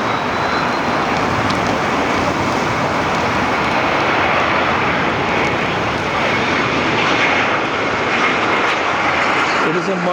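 A JetBlue Airways airliner passes at Fort Lauderdale airport, its engines giving a loud, steady roar that fills the whole stretch with no break.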